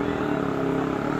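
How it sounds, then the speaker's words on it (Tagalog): A Harley-Davidson 750 motorcycle engine drones steadily at close range, a continuous low rumble with no pauses or speech. "Harley Davidson, 750."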